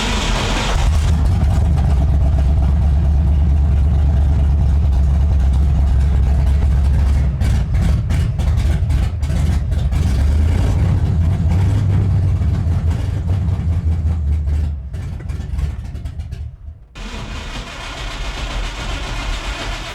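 A slammed, cammed OBS Chevy truck engine fires up and runs as a loud, close, deep rumble, then falters and cuts out near the end, followed by a quieter lull with no talking.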